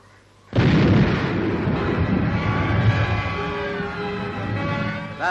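Mountain battery shells strike a roadblock in wartime 1944 Far East fighting, with a sudden loud blast that turns into a long, rumbling roar and a hissing tail in archival sound.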